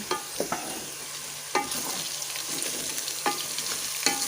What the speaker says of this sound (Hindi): मैं इसके अंदर अदरक और लहसुन का पेस्ट ऐड करूँगी 1 चम्मच। इसको मिक्स कर लूँगी अच्छे तरीके से।